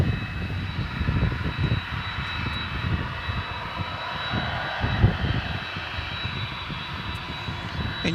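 A Boeing 767 at DFW Airport revs its jet engines at night, a steady loud roar with a high whine that holds throughout, heard from some distance with no talking.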